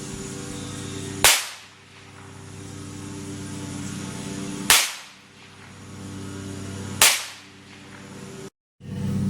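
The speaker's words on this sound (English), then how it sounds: "10 yards, and this time we'll use the target pistol." A .22 target pistol fired at a range target 10 yards away, three sharp loud gunshots spaced a few seconds apart, each with a short fading echo, against a low background hum.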